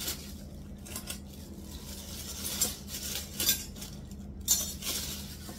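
Light metallic clinks and taps as a copper-pot spoon and a camphor stand are handled and set down, a few sharp chinks scattered over quiet room tone, close and soft.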